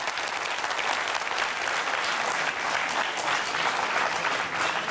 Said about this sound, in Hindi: अब आपको एतबार हो गया हो तो जरा उस बच्चे के लिए जोरदार तालियां बजाइए।